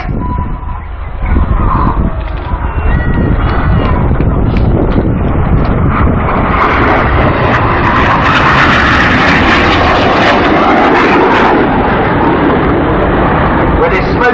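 Red Arrows aerobatic jets at the Farnborough Airshow 2014 roar loudly and continuously overhead, a broad jet rumble that swells as the formation passes, with commentary audible over it.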